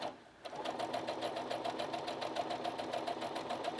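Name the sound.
sewing machine stitching a seam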